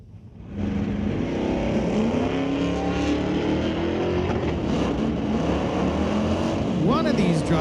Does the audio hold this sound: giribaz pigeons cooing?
no